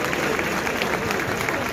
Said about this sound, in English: Clap for the UGA President Jarlath Burns